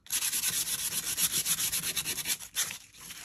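Rapid back-and-forth scratchy rubbing of sandpaper taking paint off paper, close and rhythmic, pausing briefly near the end before resuming.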